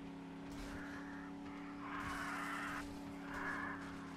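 Vehicle engine roar from a truck in the game 7 Days to Die being knocked around by attacking vultures, a steady drone with surging, scraping swells that rise and fall across the span, no talk.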